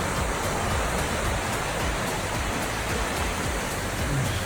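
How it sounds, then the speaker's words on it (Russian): Small mountain river in Ingushetia flowing steadily, a dense, continuous rushing of water, close and even throughout with no voices. "Там небольшая вот речушка."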